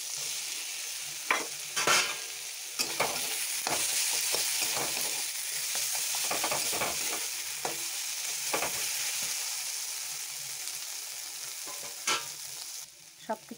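Mustard paste frying in a pan while being stirred, a steady broad sizzle with repeated scraping strokes of the spoon throughout, close and moderately loud with no talking.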